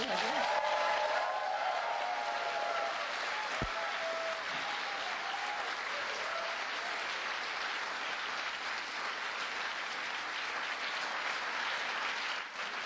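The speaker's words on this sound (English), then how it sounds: "Nice round of applause for Joe." Audience applause for President Joe Biden, a steady, broad wash of clapping from a large crowd lasting many seconds, fairly even in loudness and heard alone.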